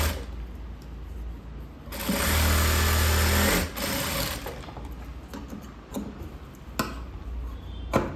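A sewing machine stitching a cross-cut blouse in a tailoring lesson, starting with a loud steady run of rapid mechanical stitching, then quieter clicks, taps and short mechanical knocks as the work is handled.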